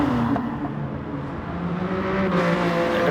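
A BMW VGT race car in a racing video game holds a steady, sustained engine drone with harmonic bands, rising slightly in pitch toward the end and running continuously at moderate volume without talk.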